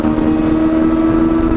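A motorcycle engine runs steadily close by, a strong even drone with a constant pitch and no breaks, heard on its own.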